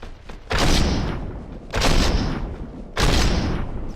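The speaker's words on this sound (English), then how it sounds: "right about here, I get that snipe" Sniper rifle fire in Fortnite lands as three heavy, loud booming shots spaced about a second and a quarter apart, each trailing off into a rumbling tail.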